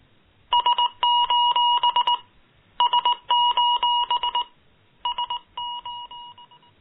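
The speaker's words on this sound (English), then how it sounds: "Morse code, SOS." An SOS distress signal in Morse code, sent as clear, loud electronic beeps in three rhythmic groups of short and long tones separated by gaps.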